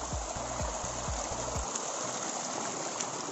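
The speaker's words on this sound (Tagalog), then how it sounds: "Ayan, ito yung sapa." Water in a small stream rushes steadily and close by, a continuous even wash with a few soft low knocks early on.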